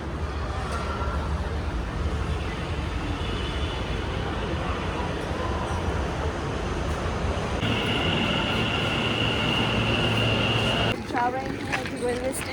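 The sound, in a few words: Mumbai metro train running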